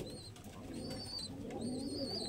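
Giribaj pigeons coo softly at close range, low throaty repeated calls in a steady rolling rhythm, with a few thin chirps above them.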